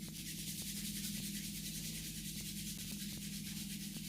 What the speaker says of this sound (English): Bringing the hands together, rubbing them to gently warm them.